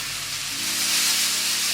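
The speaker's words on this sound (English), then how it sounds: "we're just going to saute these off until they're nice and soft" Sliced leeks sauteing in a pan, a steady close sizzle and hiss of frying with a faint low hum underneath, continuous throughout with no talking.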